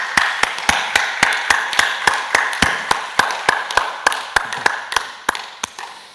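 Sharp claps ring out in an even, rapid rhythm as a congregation applauds during an early Sunday morning church service, close and continuous with no talk.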